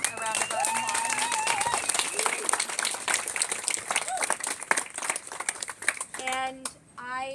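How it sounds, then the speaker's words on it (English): Audience applause for the organizers of an outdoor community speak-out on a street safety redesign, scattered clapping mixed with voices and someone talking, distant whistles or cheers, tapering near the end. "Let's give them a round of applause."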